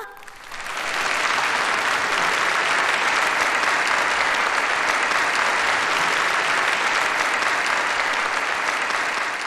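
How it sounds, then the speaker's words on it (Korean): A large audience in North Korea breaks into sustained, dense applause at a gathering honouring athletes, rising quickly and holding steady and loud throughout. "여러분 박수를 보내줍시다."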